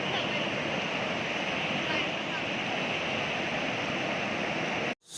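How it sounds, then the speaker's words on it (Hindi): The Mandakini river flowing past Gaurikund in the mountains, a dense, unbroken rush of water at steady volume that cuts off abruptly just before the end. "शाम को मंदाकिनी रिवर का नज़ारा ही कुछ और है, जो गौरीकुंड के पास से गुजर रहा है।"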